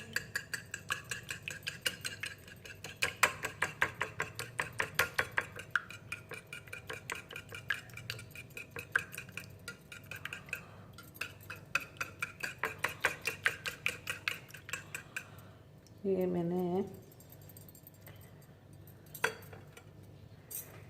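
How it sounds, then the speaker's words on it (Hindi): Three eggs are beaten in a bowl for egg halwa, with a steady run of quick clinking strokes from a utensil against the bowl, close and fairly loud, broken by a short louder scrape near the end. "3 अंडे मैंने इसको तोड़ लिए। इसको थोड़ा फेंट देंगे।"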